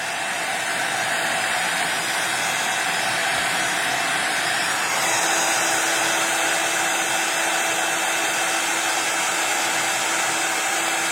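Heat embossing tool remelting embossing powder on a mixed media craft piece, a steady loud hair-dryer-like whoosh of blowing air that runs continuously without pause, with no talking over it.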